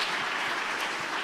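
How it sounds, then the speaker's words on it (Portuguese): Brief burst of a church congregation applauding, a dense, even wash of many hands clapping at once, steady and fairly loud throughout. "Vamos aplaudir esse povo, esses esportistas de Jesus"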